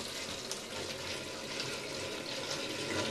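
Apple juice poured into a mead mixture, a soft continuous splashing liquid stream lasting a few seconds, faint and alone.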